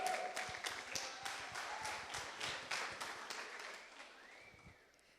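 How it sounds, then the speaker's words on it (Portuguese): A church congregation applauds with scattered, fairly distinct claps that fade out over a few seconds in a roomy space. "Vamos aplaudir a Emily, gente."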